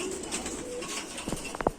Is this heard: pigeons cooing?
yes